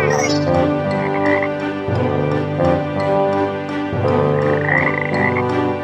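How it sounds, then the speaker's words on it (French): Frogs croak in a steady, dense chorus, rhythmic rasping calls repeating loudly and continuously throughout without any talking. "Ce sont des grenouilles."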